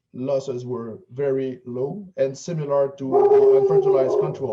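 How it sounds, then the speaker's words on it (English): A pet dog barks and howls in the background, its yelping mixed in beneath a person speaking steadily and loudly in the foreground. "Sorry, that's my dog barking in the background."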